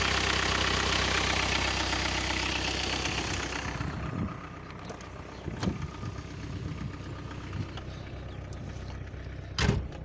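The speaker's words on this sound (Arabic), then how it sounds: "لو تسمع في صوت الموتور." A freshly rebuilt car engine, blowing white smoke from the oil dipstick opening, idles with a loud, rough rumble that eases to a quieter hum after a few seconds, broken by occasional sharp knocks.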